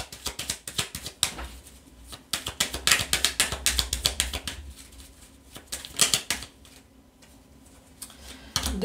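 Tarot cards being laid out and flipped over on a table during a reading: a run of crisp, close taps and slaps in uneven bursts, busiest early on, thinning out, then picking up again near the end.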